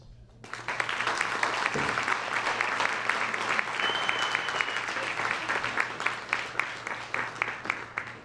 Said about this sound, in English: Another round of applause to all of our speakers.